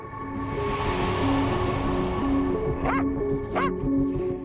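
A dog on a mountain walk gives two short, high yips over a steady background of music and talking.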